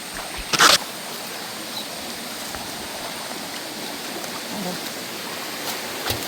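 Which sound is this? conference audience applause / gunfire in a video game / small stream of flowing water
small stream of flowing water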